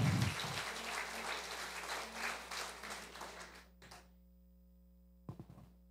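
A church congregation claps together during a Resurrection Sunday service, a few seconds of moderate, fairly distant applause that fades out, followed by a brief thump and a low steady hum.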